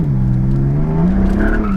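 A Porsche turbo car with a manual transmission accelerates hard from inside the cabin, its engine note climbing steadily with a whirring turbo whine rising over the top.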